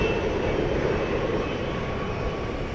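Airliner on arrival at DFW Airport at night, after a long trans-Pacific flight: a continuous loud jet-engine roar held at a steady level for the whole moment, with no voices.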